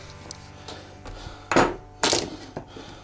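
Metal wrenches picked up and clinking together while preparing to work on a motorcycle's suspension linkage: a few quiet taps, then two sharp close metallic clatters.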